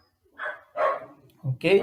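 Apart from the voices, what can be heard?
German shepherd puppies barking outside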